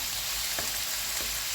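Parsley and basil hit a hot pan with a steady, close sizzle and frying crackle running throughout, with a couple of soft stirring clicks.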